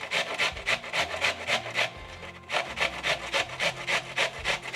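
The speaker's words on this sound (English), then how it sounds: "I'm just going to take about half of it here, and I'm going to do the same thing. I'm just going to go ahead and grate it." Half an onion rasped against a hand grater in quick, even back-and-forth strokes, with a short pause partway through before the scraping resumes at the same steady rhythm.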